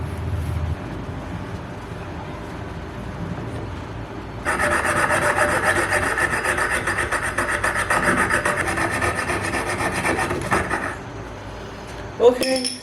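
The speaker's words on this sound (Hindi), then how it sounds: "My new jewellers saw. ये इसकी बहुत बारीक ब्लेड है।" A jeweler's saw with a very fine blade cutting a small workpiece held in a homemade bench vise, giving a steady close rasping stroke for about six seconds after a quiet stretch, ending with a small clack.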